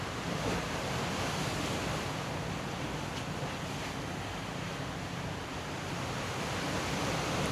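Ocean surf washes onto the shore in a continuous broad roar with some wind noise, steady and fairly soft with no voices.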